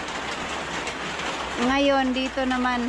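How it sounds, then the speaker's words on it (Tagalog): Heavy rain falls outside a rural hut, a dense steady hiss under someone speaking Filipino from the middle onward. "Ayan na naman, lumakas ulit ang ulan."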